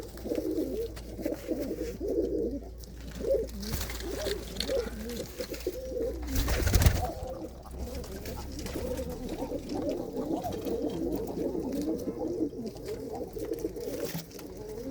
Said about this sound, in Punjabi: ਆਹ ਕਬੂਤਰ ਆ ਬਾਈ ਆਪਣਾ ਖੱਟੀ ਕਾਲੀ ਦਾ